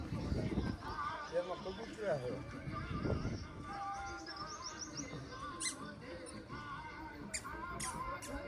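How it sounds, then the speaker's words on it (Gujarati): A mare whinnies on a village farm, with quavering neighs rising over rustling ground noise, heard at moderate distance while people talk nearby. "ઘોડી છે સામે, હમણાં જોઈએ એને"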